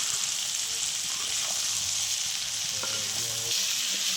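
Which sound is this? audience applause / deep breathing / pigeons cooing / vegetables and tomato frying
vegetables and tomato frying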